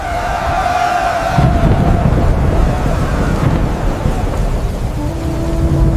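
Stormy wind rushing and roaring steadily outside, a dense, broadband gusting wash with low rumbling underneath, loud and continuous with no voices.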